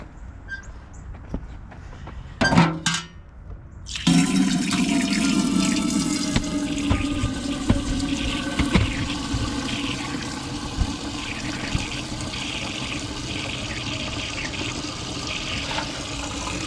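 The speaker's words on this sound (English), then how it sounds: "now we're going to go out to the rain barrel and fill up our water" Water running steadily from a rain barrel tap into a container on a homestead, a continuous close splashing flow that starts abruptly after a few knocks and lasts to the end, with no talk.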